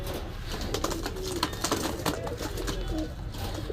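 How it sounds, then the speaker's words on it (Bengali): Pakistani pigeons coo at a crowded pigeon market in Khulna, a steady mass of soft coos and flutters over dense background chatter and noise. "খুব সুন্দর কবুতর"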